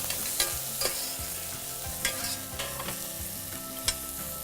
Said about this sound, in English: Once your onions are gone, give it a mix.